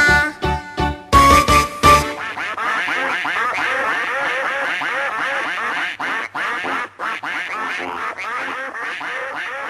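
Ducks quacking, opening with several loud rhythmic quacks, then a steady chatter of many overlapping quacks close by, dense and continuous.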